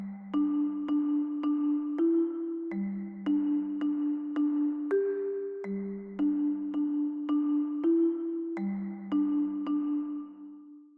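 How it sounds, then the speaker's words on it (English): A solo marimba plays a repeating, rhythmically displaced figure of short mallet notes, the bass-register pattern cycling about every three seconds with a slightly higher note breaking in now and then, steady and clear with no voices. "I think I'm just going to solo the marimba"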